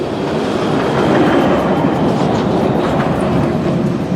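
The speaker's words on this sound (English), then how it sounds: "Oil trains continue to pass through major cities, small towns, and national parks." A freight train hauling crude oil rolls steadily past on railroad tracks, a loud, close, continuous rumble with rhythmic wheel clatter and no voices.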